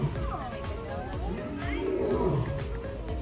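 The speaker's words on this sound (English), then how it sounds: "I hear the lion is roaring, even though it's way over there somewhere." A lion roars at a zoo, a rough, rumbling call at moderate level through the clip, with people talking nearby over it.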